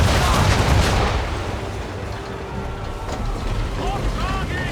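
Ship swivel guns firing in Assassin's Creed III: a loud opening blast that booms and fades, then rumbling water and ship noise with faint crackling reports and a shouting voice near the end.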